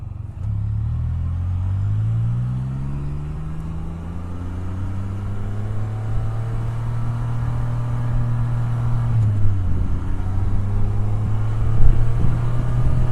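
A Can-Am Spyder three-wheeled motorcycle's engine pulls hard and rises in pitch through the gears, with a brief dip at a shift before climbing again, loud and close with wind rumble.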